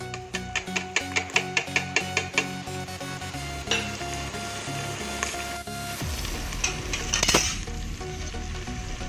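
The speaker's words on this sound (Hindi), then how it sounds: "कम से कम 4-5 मिनट ऐसे ही अच्छे से फ्राई करेंगे, यानी लोटस स्टेम नद्रू को अच्छे से भून लेंगे" Lotus stem (nadru) frying in a pan with salt, turmeric, garam masala, coriander, black pepper and red chilli powder, a steady close sizzle broken by regular spoon scrapes and clinks, busier near the end, with no speech.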